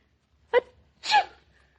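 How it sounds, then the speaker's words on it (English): Two sneezes in quick succession, the first short and sharp, the second fuller and drawn out, close by with quiet between. "Who sneezed?"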